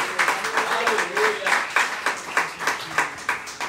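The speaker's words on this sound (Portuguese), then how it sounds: "Aplauda ao Senhor mais uma vez." A church congregation claps together in a steady rhythmic beat of hand claps, dense and fairly close, with voices faintly mixed in.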